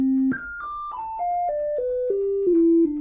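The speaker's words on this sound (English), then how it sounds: "we hear the sine wave from this oscillator" A pure, steady sine-wave tone from an analog modular synthesizer oscillator, stepping down in pitch through about eight sustained notes, each held roughly a third of a second, clean and alone.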